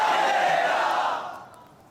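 A crowd at an Islamic religious gathering shouts a slogan in unison, a loud massed roar of many voices that holds for over a second and then fades away.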